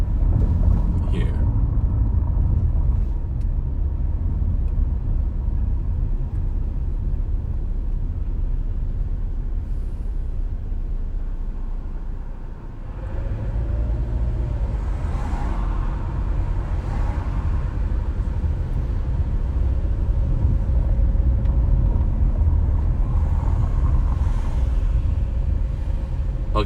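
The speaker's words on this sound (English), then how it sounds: "So I'm going to drive a little bit slow." A car cruises slowly through downtown Burbank, a steady low rumble of engine and road noise inside the cabin with a brief dip midway, while a person talks over it throughout.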